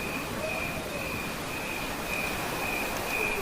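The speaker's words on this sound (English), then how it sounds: "Even the crickets are in time with the actual breath." A steady high chirping of crickets runs throughout over a constant hiss of background noise.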